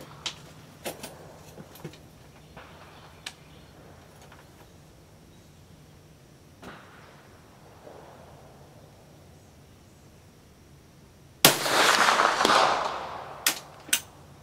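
A Swiss Model 1878 rifle in 10.4x42R fires one loud, sharp shot late on a 200-yard outdoor range, with a long rumbling tail. Quiet clicks and small handling noises come before it.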